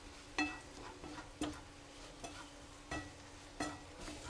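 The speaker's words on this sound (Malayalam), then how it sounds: "ഇനി ഇതും കൂടി ഇട്ട് ഇതിൻ്റെ കൂടെ ഇട്ട് നന്നായിട്ടൊന്ന് മൂപ്പിച്ചെടുക്കണം" Chicken masala is stirred and fried in a pan, with a low sizzle under about six sharp scrapes and clicks of the spoon against the pan at irregular intervals, quiet and close, with no speech.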